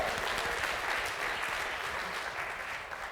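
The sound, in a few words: audience applause at the BIT Awards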